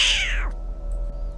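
A cat yowls in a horror story sound effect, a loud rising-then-falling wail lasting about half a second before a low ambient drone continues alone.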